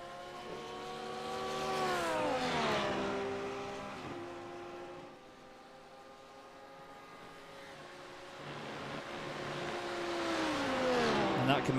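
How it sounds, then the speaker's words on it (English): A race car engine at the 12 Hours of Spa Francorchamps endurance race, its tone falling repeatedly as the driver dips the clutch and drops the revs, then climbing again, heard at a distance under a commentator's voice. "dipping the clutch, dropping the revs,"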